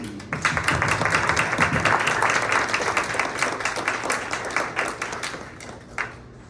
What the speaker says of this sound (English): I'd like to acknowledge them and just sort of like a round of applause